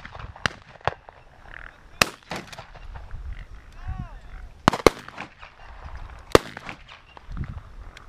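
Outdoor shooting in an open field brings several sharp, distant cracks spread over a few seconds, with voices talking and calling out between the shots.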